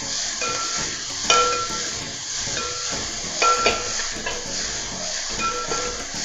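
Finely chopped onion, ginger and green chili sauté in a pan for egg biryani, giving a steady close sizzle and hiss with occasional stirring scrapes and clinks.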